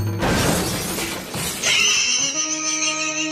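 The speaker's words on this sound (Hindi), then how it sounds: "अरे ठेला तो टूट गया और सारी पानी पूरी का भी नुकसान हो गया।" Cartoon jeep with failed brakes crashing into a pani puri cart, a loud crunching smash with breaking debris, followed by a ringing, glassy clatter that fades out.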